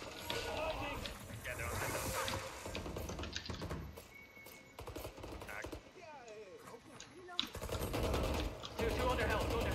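Rapid bursts of automatic gunfire in Valorant as a player shoots at screens, sharp clustered shots rattling over game effects and steady team voice chat, loud and near.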